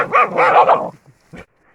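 Hunting dogs bark in loud, close bursts, with several overlapping barks crowded into the first second, followed by a single short bark after a pause.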